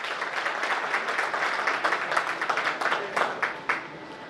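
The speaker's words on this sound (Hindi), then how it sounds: "एक बार जोरदार तालियां राजा साहब के नाम।" A crowd at a public event in a hall claps briefly, moderately loud, with scattered sharper claps rising near the end of the burst.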